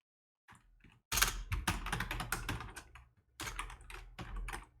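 Bursts of quick typing on a computer keyboard, with a short pause before a dense run of keystrokes and another run after a brief gap, recorded close and fairly quiet.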